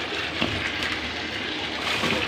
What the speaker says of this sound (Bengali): যা একটু ধোবো, হলুদ ধুতে হবে।